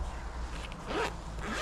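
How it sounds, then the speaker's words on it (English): A zip running along a small hard carrying case for a Fire Maple camping stove, one quick continuous rasping pull, close and clear with no talk. "a really nice little hard case with a zip"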